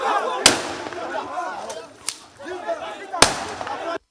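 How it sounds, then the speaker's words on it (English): Gunshots ring out during a raid on a senator's home in Maitama amid tear gas and chaos. Two loud sharp cracks are heard with a fainter one between them, over a busy background of crowd noise and voices. "Gunshots, tear gas and pandemonium at the Maitama home of Senator Okorocha"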